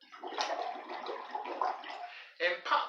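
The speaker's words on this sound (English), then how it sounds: "you can see the air that you're pushing through this tiny straw is going into the liquid" Air blown through a tiny straw into a soapy liquid bubbles in a continuous gurgling burst, close and fairly soft, followed by a couple of louder short bubbling spurts, with a voice talking over it.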